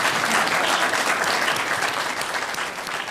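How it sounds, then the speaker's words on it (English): A conference audience at Davos gives a panel a strong, dense round of applause, with many hands clapping steadily throughout and no voices over it. "Ladies and gentlemen, a round of applause for our panel,"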